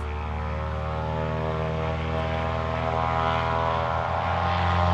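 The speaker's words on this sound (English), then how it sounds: "Obviously, you hear an airplane in the background. He's getting ready to take off." A propeller airplane runs up steadily at an airport before a short-field takeoff, its engine drone loud, continuous and close, holding an even buzzing tone throughout with a slight swell toward the end.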